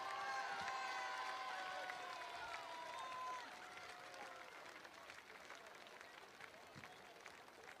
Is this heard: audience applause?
yes